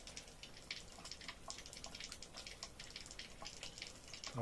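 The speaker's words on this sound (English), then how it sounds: "And that's just air, water traveling into here, pushing the air out." Water and trapped air push through an under-sink water filter cartridge after a cartridge change, giving a faint, steady sputtering trickle with scattered drips and no voices.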